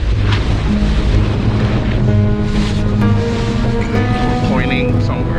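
A Zodiac boat pushes through Antarctic water in a snowstorm: a loud, constant engine drone blends with rushing water and wind buffeting the microphone, and muffled voices come through at times.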